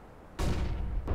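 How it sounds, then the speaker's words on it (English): In a Counter-Strike: Global Offensive competitive match, a sudden loud burst erupts after a quiet moment, a broad, noisy blast that lingers briefly before another sharp hit at the very end. "Throwing flashbang."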